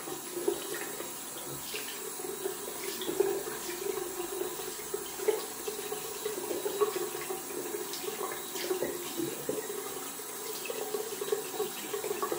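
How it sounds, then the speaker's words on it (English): Tap water runs steadily into a sink while a shaving brush is rinsed under it, a continuous close splashing rush with small irregular gurgles and no talking. "Can rinse out my brush meanwhile."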